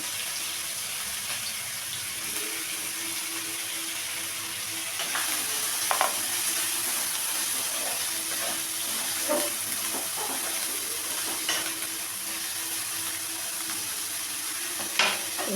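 Onions and green chillies sizzle in a pan as the base of a prawn masala curry, a steady close frying hiss broken by occasional stirring scrapes and light clinks.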